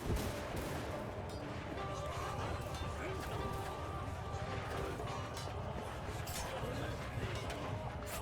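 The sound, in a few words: European gunners firing in video game Shokuho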